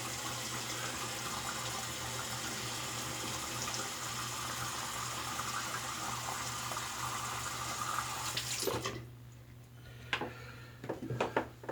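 Tap water runs steadily to rinse shaving gear, a broadband rush that stops abruptly near the end, followed by a few faint clinks and knocks in a quiet room.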